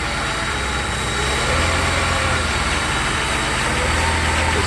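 A Mercedes 300SE W126 engine with a defective MAS module, sprayed with brake fluid, runs loud, rough and unevenly, its low rumble stumbling and surging as it chokes, with steady broadband roar throughout and no talking.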